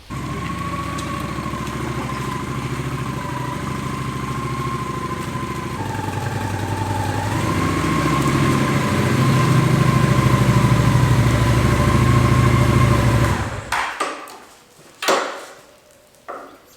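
An old motorcycle engine idles steadily in a shop at close range, holding a constant loud drone with a slight pitch shift midway before cutting off abruptly, followed by a few scattered knocks and clunks.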